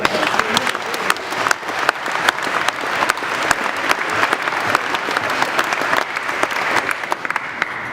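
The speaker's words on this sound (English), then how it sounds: "I think we owe Robert a hearty round of applause." Banquet audience giving a hearty round of applause for organ recitalist Dr. Robert Scott, loud dense clapping sustained throughout.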